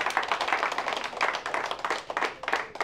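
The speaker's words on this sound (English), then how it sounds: "we should clap it up" A comedy club audience in Sparta, NJ clapping, a steady dense ripple of hand claps that carries on throughout at moderate loudness.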